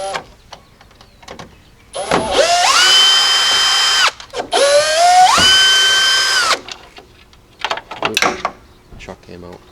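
A power drill backs two Phillips screws out of the headlight bezel on a Jeep Cherokee XJ, two loud, close whirring runs rising in pitch, with brief talk and clicks around them.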